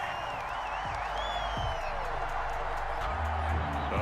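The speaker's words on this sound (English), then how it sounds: "Well, this crowd does not like that call." A simulated stadium crowd in the Madden 21 video game, Broncos at Ravens, reacting to a penalty call: a continuous, loud wash of crowd noise with a few faint whistle-like tones and low rumbles, and no clear voices above it.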